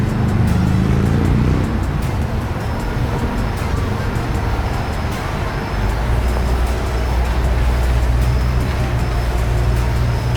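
A 2020 Chevrolet C8 Corvette convertible approaches on a road, its engine a loud, steady roar with a deep low rumble that holds for several seconds. No one speaks.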